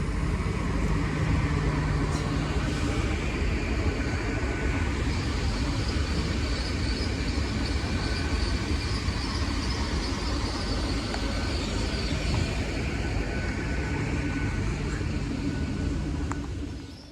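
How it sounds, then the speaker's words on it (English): A Great Western Railway Class 800 five-car set, unit 800021, runs past at Oxford on the Great Malvern to London Paddington service, a loud sustained rumble and roar of wheels and engines filling the whole stretch before easing slightly at the end. "here comes the 1328 Great Western Railway service from Great Malvern to London Paddington"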